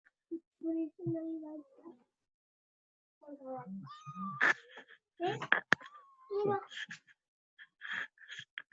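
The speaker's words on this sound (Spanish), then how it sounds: "El gatito." A kitten meows in short high cries amid children's and adults' chatter, near and fairly loud, several calls spread through the second half.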